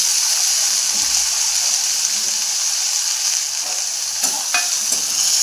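Washed flat bean pods fry loudly with garlic and turmeric in a hot pan, a dense, steady sizzle broken by a few stirring scrapes toward the end.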